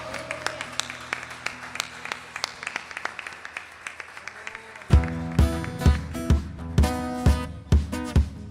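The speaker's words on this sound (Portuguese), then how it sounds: "Vamos levantar as nossas mãos e dar uma salva de palmas ao Senhor." A church congregation at a Wednesday revival service claps in praise, first scattered handclaps, then strong rhythmic clapping joined by loud music and singing.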